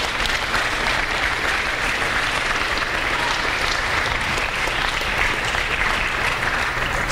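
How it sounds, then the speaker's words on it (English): Steady, sustained applause from a school assembly audience at St. Benedict's College, many hands clapping evenly and continuously throughout with no break. "I think that deserves a round of applause."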